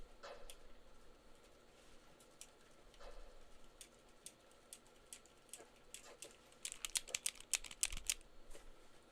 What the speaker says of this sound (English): It was just a fun little clicking sound. It's from like the Joy-Cons.